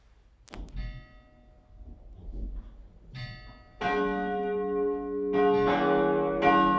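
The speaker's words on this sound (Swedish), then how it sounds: "Och nu lyssnar vi till klockringningen." Church bells of a cathedral ring out after a Sunday service, starting with a few scattered strikes and then swelling into loud, overlapping peals that keep resonating.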